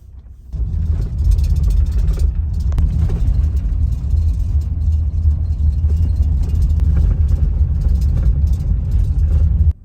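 A converted minivan drives steadily through a national forest in Red River Gorge, its engine and road rumble starting abruptly and staying loud and constant from inside the cabin, with no one speaking.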